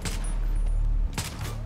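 Army soldiers shooting in a GTA V zombie mode, a loud low rumble with a couple of sharp shot bursts near the start and again toward the end.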